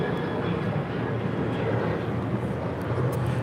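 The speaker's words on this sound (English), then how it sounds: "This is Alaska Airlines 1129 departing to Portland, Oregon, 737-900 ER." An Alaska Airlines Boeing 737-900ER departing LAX for Portland gives a steady, broad jet roar with a low rumble, moderately distant and unbroken throughout.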